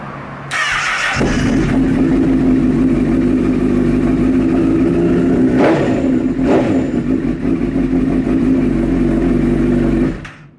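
A Honda CBR1000RR motorcycle engine fires up for the first time after a rebuild, catching quickly and settling into a loud, steady idle with a couple of brief revs before cutting off.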